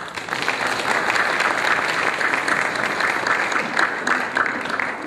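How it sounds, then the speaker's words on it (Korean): Church congregation applauding during a prayer lecture at a Baptist church gathering, a loud, dense, steady round of clapping from many people close by. "박수 소리가 가장 크게 들립니다"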